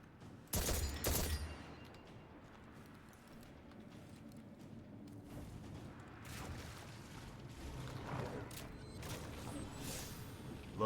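Gunfire in the game Destiny 2: a loud, sharp burst of rapid shots at the start, then scattered quieter shots and blasts over a low, steady game soundscape.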